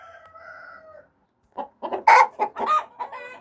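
Chickens clucking in a coop, with a drawn-out tonal call first, then a brief pause and a close, loud run of choppy clucks and squawks in quick succession; no talking.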